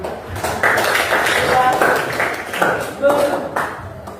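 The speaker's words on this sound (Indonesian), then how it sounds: "Tapi tepuk tangan dulu buat kelompok 4 tadi." A seventh-grade classroom breaks into applause for a student group, with a burst of clapping hands that rises quickly and holds steady, mixed with voices and a few light taps.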